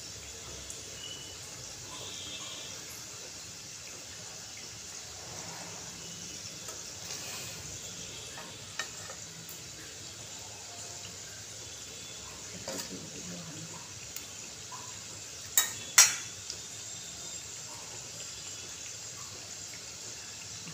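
Samosas deep-frying submerged in oil, a faint steady bubbling hiss throughout with a couple of brief sharper pops near the end.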